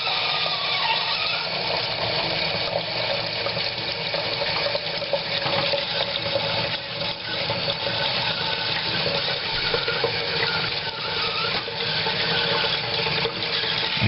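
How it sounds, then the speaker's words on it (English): Water rushes and gurgles steadily without a break as it drains back down a tube, a continuous flow like water pouring down through a pipe. "watch as the water races back down"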